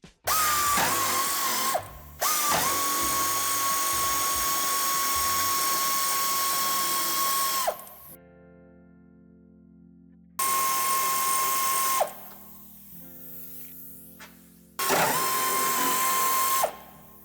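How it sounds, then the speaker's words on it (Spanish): A power tool removing the bumper screws on a 2024 Toyota Hilux: several loud, high-pitched whirring runs of a few seconds each, separated by quieter pauses with softer mechanical handling sounds. "Será necesario quitar este tornillo y aflojaremos este."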